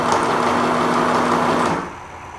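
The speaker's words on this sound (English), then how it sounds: "Pin them together, stitch the seam" A sewing machine runs steadily for under two seconds, stitching a seam joining teddy panels of fabric and stretch lace, then stops abruptly, leaving a quiet tail.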